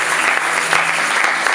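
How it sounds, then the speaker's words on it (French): A church congregation applauds during a French-language sermon, with steady, dense clapping that fills the room loudly and evenly throughout and no voice over it. "Acclame d'abord Jésus"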